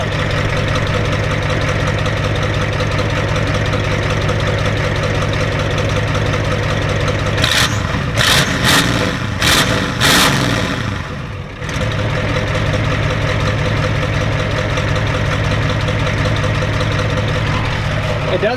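A Ford F-250 pickup with a 7.3 IDI diesel and its muffler deleted idles loud and steady throughout, with a brief burst of sharper revving or clatter near the middle before settling back to a constant rumble.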